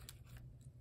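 A journal page being trimmed with scissors, showing two or three short, quiet snips over a steady low background hum; no talking is heard.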